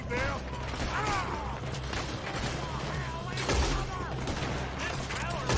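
Shootout gunfire in the video game Red Dead Redemption 2, scattered shots and bursts over a busy, dense background with shouting voices and mechanical clatter.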